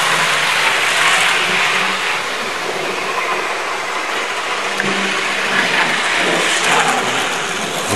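A Hornby Triang Rovex model locomotive with reprofiled wheels runs on Peco track, making a steady, loud whirring rumble that carries on without a break and with no talking.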